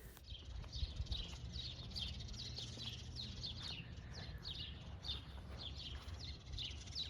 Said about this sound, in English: Man, listen to all those birds.